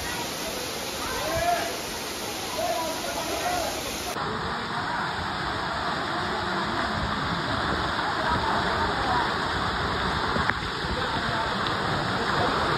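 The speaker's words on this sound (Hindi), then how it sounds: "ऊपर से पानी आ रहा मेरे भाई पहाड़ों में" Water rushing down from the mountains beside a forest road on the way to Neelkanth, a steady broadband wash of flowing, splashing water throughout, fairly close and continuous with no clear talk.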